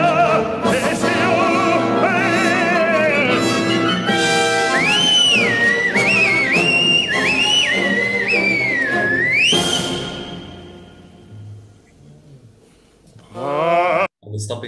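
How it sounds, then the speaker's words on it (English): Whistling by an opera singer in an aria about Mephistopheles, a bright sliding melodic line carried over a loud orchestral accompaniment, then fading out near the end. "the direction asked the singer to whistle this"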